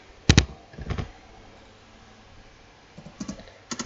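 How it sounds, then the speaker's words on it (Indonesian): Keystrokes on a computer keyboard as the ARP command is typed into a command prompt: a quick double click, a short burst of taps, a pause, then another flurry of keypresses, crisp and close. "lalu kita ketikkan ARP"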